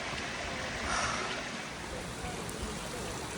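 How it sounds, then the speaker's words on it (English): A stream flowing in Glastonbury, England, a steady broadband rush and burble of running water heard close by without talk. "You can hear the water."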